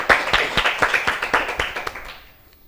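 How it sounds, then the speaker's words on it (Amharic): An audience at a children's television quiz show claps for a contestant, with about a dozen quick, distinct claps in a brisk rhythm that trail off within two seconds. "ለዋ አጨብጭቡለት"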